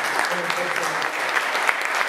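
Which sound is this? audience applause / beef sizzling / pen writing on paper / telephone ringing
audience applause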